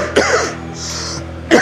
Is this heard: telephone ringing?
no